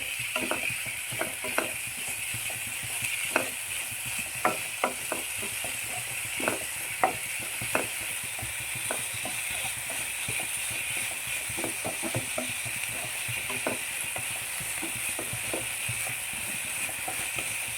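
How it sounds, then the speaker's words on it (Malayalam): Spinach (palak) sautéing in a pan, a steady low sizzle under repeated sharp clicks and scrapes of a spatula stirring at irregular intervals, close and continuous, with no talking. "പാലക്ക് നല്ലവണ്ണം വഴറ്റിയെടുക്കണേ."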